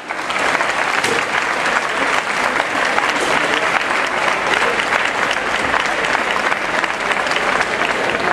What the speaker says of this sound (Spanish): Aplauso entonces para Alma Lusa.